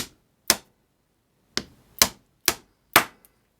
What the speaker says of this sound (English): now we're just going to tap the whole thing down